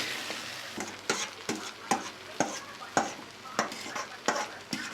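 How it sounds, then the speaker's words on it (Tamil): Fried rice being stirred: strained rice folded into hot oil in a pan, with steady sizzling and rhythmic scraping strokes of a spoon about every half second, close and clear with no talk. "வடிகட்டி எடுத்து வச்சுருக்கிற அரிசியை அதில் சேர்த்து நல்லா கலந்து விட்டு மிக்ஸ் பண்ணி விட்டுடலாம்"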